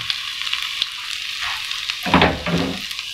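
Ginger sizzles and crackles in hot oil, a bright hissing fry with a brief louder burst near the end as something is stirred.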